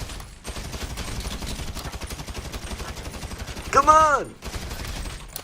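Video game gunfire, a rapid run of shots rattling through most of the clip under a brief spoken line, with a sharper whining burst near the end.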